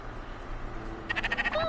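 Two sheep in a video game let out a short run of bleats near the end, over a quiet, low ambient game background.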